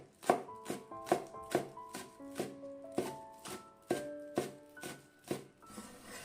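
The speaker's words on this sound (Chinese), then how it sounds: "给它切成葱花。" Knife chopping spring onions on a board, a steady run of crisp, close taps about two per second, with a faint tonal ring under the strokes and no talking.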